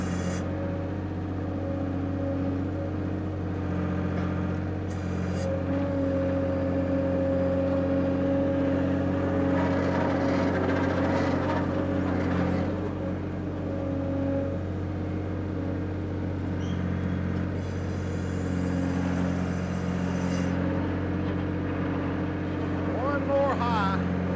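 Engine of an old skid steer loader fitted with a Steffen grapple idles steadily with a constant low drone and harmonic hum throughout, someone talking over it.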